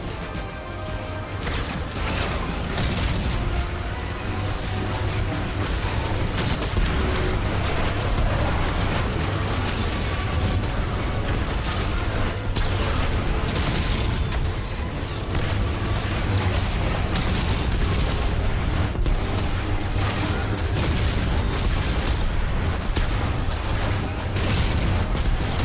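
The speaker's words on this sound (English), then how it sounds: "All of the explosions." Continuous loud, dense rumbling blasts and crashes in a video game, explosions overlapping one another with no pause, booming throughout.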